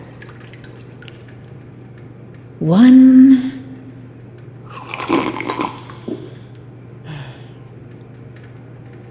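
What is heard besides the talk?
drinking sips of water in Bendy and the Dark Revival video game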